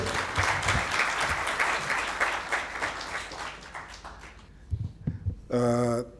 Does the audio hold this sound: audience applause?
yes